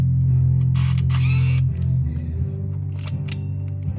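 Canon Autoboy 3 film camera, close and loud: a steady motor whine cuts off, followed by sharp mechanical shutter clicks and brief whirring bursts.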